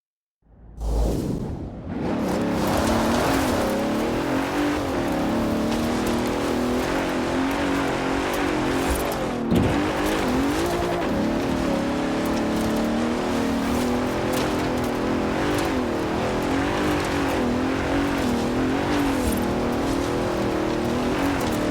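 Cars climb an offroad hill in Forza Horizon 4, a Bentley and a Dodge Ram among them, with a loud, steady engine roar and rushing tire and gravel noise that continues without a break throughout.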